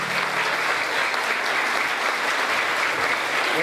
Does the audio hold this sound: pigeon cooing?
no